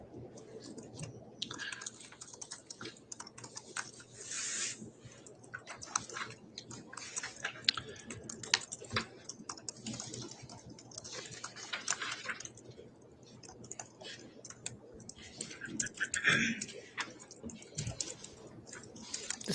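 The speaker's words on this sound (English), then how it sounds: "The stenographer is like still typing." Soft, quick, irregular key taps from a stenotype machine in a courtroom during a trial go on steadily at low volume, with faint rustling and a quiet room behind them.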